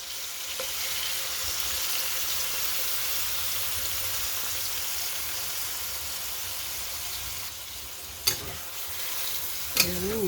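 Coconut milk poured into a hot pan of spicy chicken with kamias for ginataang manok, giving a steady broad sizzle and bubbling hiss throughout with a couple of brief clinks near the end.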